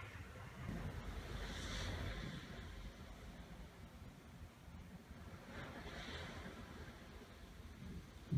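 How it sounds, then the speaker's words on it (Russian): Sea waves breaking on a shore in Bulgaria, soft and distant, with two gentle swells rising and falling amid low wind rumble on the microphone. "засыпать под шум морской волны"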